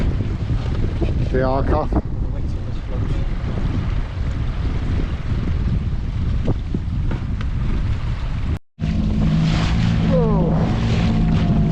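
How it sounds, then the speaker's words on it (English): Boat pounding through choppy waves with wind against tide, heavy wind buffeting and wash roaring continuously with a brief dropout, a short spoken exclamation near the start. "a choppy wet ride, wind against tide, fairly choppy"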